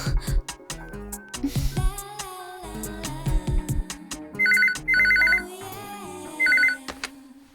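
A telephone rings in three short bursts of electronic trills, clear and close, over a busy film soundtrack of music and other sounds.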